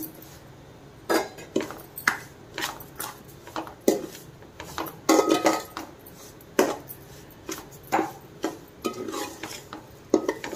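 Wheat semolina being roasted in a pan, a spoon scraping and stirring through the dry grains in repeated strokes with metallic knocks against the pan, close and clear with no talk.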